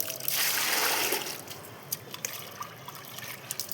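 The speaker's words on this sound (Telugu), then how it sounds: "ఇది నేను ఒక మగ్గు మజ్జిగ అయితే మూడు మగ్గుల వాటర్ అయితే కలుపుకుంటున్నానండి" Water pours from a mug into sour buttermilk, three mugs of water to one of buttermilk. A brief close gush comes first, then scattered drips and small splashes trail off.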